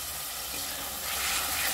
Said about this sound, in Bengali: গ্যাসের আঁচটাকে আমি মিডিয়াম টু লোতে রেখে মশলাটাকে খুব ভালো করে আমি কষিয়ে নিচ্ছি।